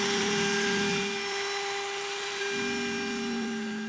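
A CNC mill drills holes in metal with a steady, loud high-pitched whine, a sustained spindle tone that shifts slightly in pitch partway through. No voices are present.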